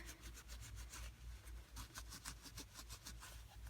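A soldered, stamped metal jewelry pendant is polished by hand, producing faint, quick repeated rubbing strokes over a low background rumble with no talk.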